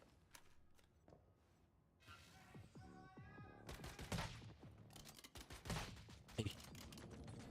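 Gunfire in the survival shooter game Once Human crackles in dense, irregular bursts of sharp reports, with rapid volleys building louder toward the end and a brief tonal sound partway through.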